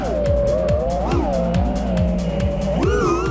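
Race cars tearing down a straightaway in the DHL Champions Series at Bunowen Castle, a loud continuous engine roar with rising and falling pitch and rhythmic gear shifts, heard under a commentator's voice.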